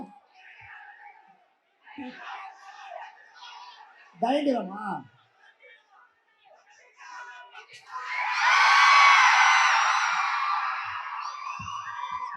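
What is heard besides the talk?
fans clapping and cheering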